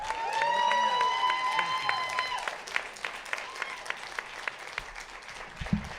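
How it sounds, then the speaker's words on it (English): Applause for student design winners at a Warren Tech awards event, a dense burst of clapping that swells early and then thins into scattered claps, with a few tonal sounds over the first seconds. "Nice round of applause."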